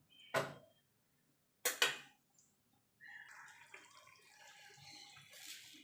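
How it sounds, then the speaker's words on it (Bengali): Water poured from a mixer jar into a pan of jhinge aloo posto, a couple of short splashy pours followed by a longer run of bubbling and trickling as it settles, moderately close and without speech. "মিক্সির জারটা দিয়ে জলটা দিয়ে দেবো"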